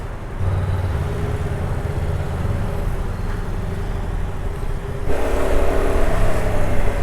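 A Honda CBR 500R motorcycle rides past on a short lap, its engine a steady droning hum that grows louder and brighter in the final two seconds as it nears, heard alone without talk.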